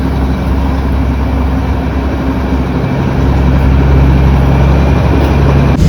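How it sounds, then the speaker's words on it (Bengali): A loud, steady rumble of the Darjeeling toy train's engine with a low drone and rattling carriages, the noise swelling slightly as the train gets going. "কথা বলতে বলতে টয় ট্রেন তার নিজের গতিতে চলা শুরু করলো।"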